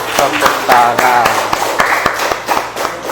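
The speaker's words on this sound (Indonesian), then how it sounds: "Kita berikan tepuk tangan." A small classroom group of teacher trainees claps in quick, uneven bursts nearby, with voices chattering underneath.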